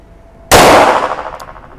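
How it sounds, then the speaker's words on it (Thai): A single loud, close gunshot from a Smith & Wesson M51 .22 Magnum revolver fired double action at an outdoor target range, with a sharp crack and a metallic ringing tail that fades. "ตัวปืนสมิธแอนด์วิสันนะครับกระบอกนี้จุด .22 แมกนัมจุไป6นัดเลยนะครับเดี๋ยวลองยิงนะครับ"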